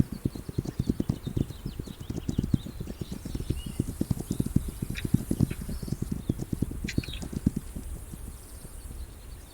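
Horse hooves clip-clop steadily in the video game This Land Is My Land, a rapid rhythmic patter of close, continuous footfalls that carries on without pause under faint ambient wind.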